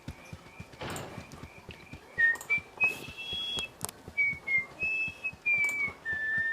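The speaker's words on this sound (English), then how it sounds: "Just whistling. Don't mind me, just whistling." In the Baldur's Gate classic role-playing game, a character whistles a wavering, high tune in short phrases, accompanied by soft, rhythmic clip-clopping footsteps.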